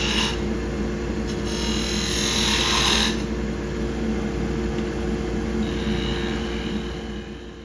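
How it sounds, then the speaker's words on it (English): A skew chisel makes planing cuts on a small wooden tool handle spinning on a wood lathe, giving a steady motor hum under a hissing, scraping cut that swells briefly and then continues evenly. "So now I'm coming back and doing some finishing cuts, some more planing cuts with the skew."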